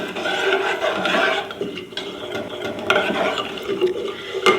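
Rice flour being mixed into milk in a pot for rice kheer, a continuous scraping and rubbing stir with a rough, busy texture, close and moderately loud throughout, with no voices.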